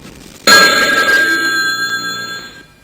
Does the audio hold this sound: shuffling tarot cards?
no